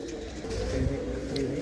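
A pigeon hen, a flying-breed bird, coos softly and continuously close by, its low murmuring voice steady against a faint background.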